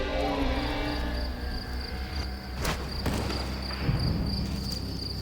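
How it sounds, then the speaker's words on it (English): Field crickets sing from their burrows in a steady, high-pitched pulsing chorus of chirps, close and continuous, with faint rustling underneath. "Field crickets invest a huge amount of time constructing burrows where they can sing"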